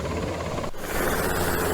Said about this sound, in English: The helicopter will hover just off your port quarter and lower the highline with a sandbag